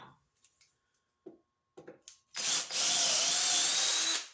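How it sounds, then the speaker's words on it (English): A rotary tool fitted with a carbide cutter whines loudly and steadily for about two seconds, trimming glue from a tube for a key chain blank, after a few quiet clicks and knocks. "got a shaft that goes down into the tube, and then some carbide cutters"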